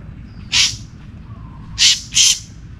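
A black bird calls out just after being released during a slingshot hunting outing: three loud, harsh caws up close, one single and then a quick pair, over a low background rumble.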